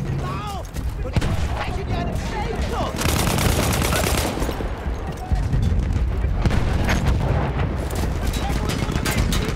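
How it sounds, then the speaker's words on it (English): Battlefield 1 combat gunfire: rapid machine-gun bursts and scattered rifle shots crackle continuously and loudly, with distant explosions and horses amid voices talking. "Where else are they shooting from?"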